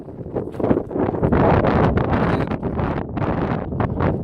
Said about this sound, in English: the wind here is mental